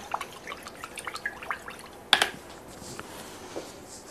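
Paintbrushes rinsed in a water cup after acrylic painting, giving soft scattered drips and light splashes with one sharper splash midway, close and fairly quiet with no talking.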